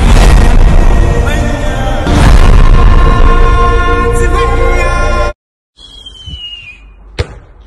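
Fireworks salute explosions boom loudly in a dense, continuous barrage for several seconds, then cut to quieter surroundings with a single sharp bang near the end.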